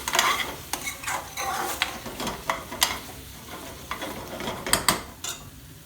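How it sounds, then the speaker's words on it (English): Spices fry in a pan with Balti paste for a lamb Balti, soft sizzling under repeated scraping and clinking strokes of a utensil against the pan, irregular and close. "we're still cooking the spice really well"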